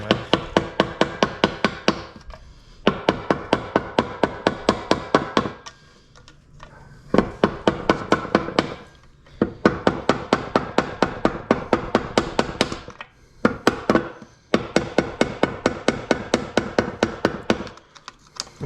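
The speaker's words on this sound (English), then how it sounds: "hammer and screwdriver method here." Hammer striking a screwdriver to loosen a fastener during teardown of a Subaru STI 6-speed transmission: sharp, rapid metallic taps in long even bursts, separated by brief pauses, close and loud.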